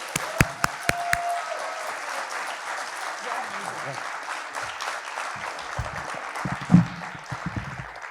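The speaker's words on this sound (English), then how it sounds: "Let me hear a huge round of applause from everybody." Applause from an audience at an alumni fellow awards ceremony, a sustained wash of many hands clapping in a large room, with a few sharp claps and cheers standing out near the start.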